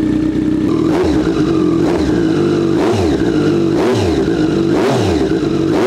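Triumph Street Triple naked motorcycle idling from a cold start: a loud, close, steady engine drone with a lumpy rhythmic throb, rising and falling in regular surges of revving roughly every second.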